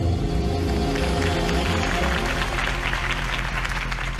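Crowd applause from a campaign rally audience in Batman: The Telltale Series, a steady dense wash of clapping layered over a sustained musical score, loud throughout.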